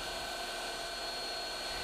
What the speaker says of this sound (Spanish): Ahora ya podíamos lijar.